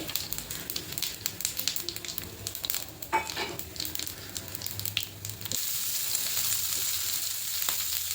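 Cumin seeds with cardamom, cloves, peppercorns, bay leaf and cinnamon crackle and sizzle in hot oil for a palak pulao, scattered pops at first, then a denser, steady frying hiss close by.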